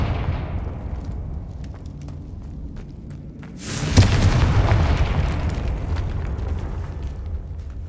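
A Confringo spell blast in Hogwarts Legacy: one sudden loud burst midway that swells into a sustained rumbling roar, set over a low, murky ambient drone.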